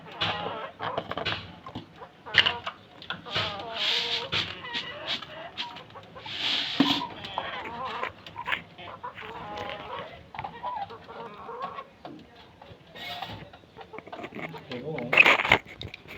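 Chickens on a farm cluck and call near the microphone while being fed rice paddy, with someone talking over them almost the whole time.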